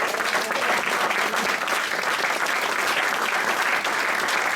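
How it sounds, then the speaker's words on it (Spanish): Steady applause from a church congregation during a Spanish-language sermon, a dense wash of many hands clapping at even loudness throughout with no pause. "Un aplauso al Señor."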